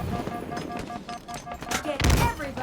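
Assault rifle fire in the shooter game Halo Infinite, a quick rhythmic series of soft shots under game sounds, ending in a heavier burst.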